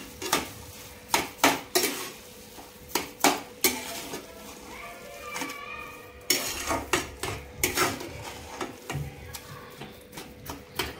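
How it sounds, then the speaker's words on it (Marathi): A spoon stirs sugar into khoa and ghee for carrot halwa, scraping and knocking against a metal pan in repeated sharp clatters, close up, with a faint sizzle between strokes. "परत एकदा व्यवस्थित आपण मिक्स करून घेऊ।"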